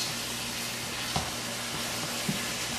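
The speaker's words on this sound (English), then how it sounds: "I'm cooking it on high because I like my beef a little bit burnt" Beef frying in a pan on high heat gives a steady, bright sizzle with faint stirring scrapes and a couple of soft clicks, with no voices.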